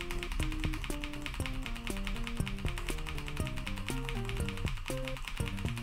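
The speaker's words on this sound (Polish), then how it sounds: "To jest klawiatura mechaniczna." Rapid, steady keystrokes clack on a mechanical keyboard at close range, layered over looping electronic video-game music.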